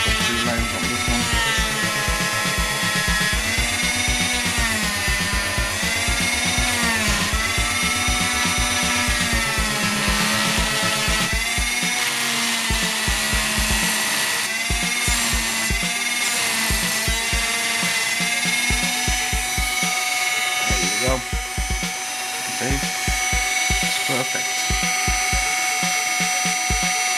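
A high-pitched Dremel rotary tool carves lines into small wooden beads, a continuous whine that rises and falls in pitch as it bites into the wood, with short grinding bursts toward the end.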